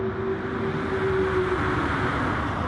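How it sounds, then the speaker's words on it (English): Race car engine in a racing video game, a steady sustained drone holding one pitch with a faint whine, loud and continuous throughout without talk. "That car sounds incredible, Sam."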